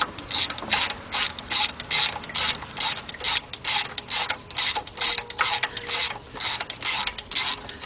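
A hand ratchet clicks in quick repeated bursts while loosening a nut on the water pump of a 1977 Buick LeSabre 5.7, close and crisp with a fairly even rhythm of strokes.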